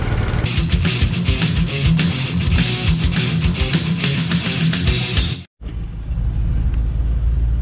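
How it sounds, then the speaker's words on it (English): Loud rumbling engine and crashing brush as a mini truck pushes through woodland undergrowth, with a brief cutout near the end before a quieter engine drone. "Bulldozing through the woods with the mini truck"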